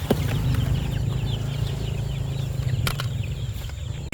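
Young breeder chicks on a Philippine farm, a busy chorus of high peeping and clucking with occasional wing flaps, close and continuous.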